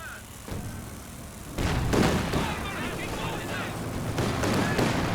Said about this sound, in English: Oh, those heavy mortars though.